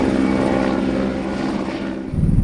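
A Fennec military helicopter in flight, heard from on board during an Ariane 6 launch security mission, gives a loud, steady rotor and turbine drone that holds throughout and swells slightly near the end.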